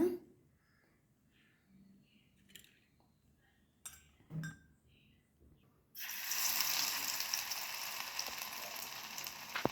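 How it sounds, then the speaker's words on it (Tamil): Mushroom pieces go into oil in a tiny toy kadai heated over a candle: a few faint clinks and taps in near silence, then a sudden steady sizzle of frying that carries on to the end. "இப்போ ஃப்ரை ஆகுங்க"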